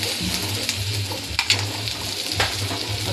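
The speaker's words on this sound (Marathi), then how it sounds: "मी अंडे आता बॉईल करून घेतलेत आणि असं अंडे सोलून घेतले आणि ते तेलामध्ये असे तळून घेते" Peeled boiled eggs frying in hot oil, a close continuous sizzle with a few clicks of a utensil stirring against the pan, no voices.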